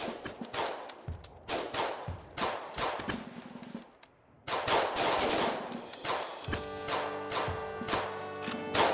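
Small lantaka cannons fire during a reenactment of the Siege of Tayabas, with a rapid series of sharp, loud reports in irregular clusters, a short pause, then more volleys mixed with a sustained tone.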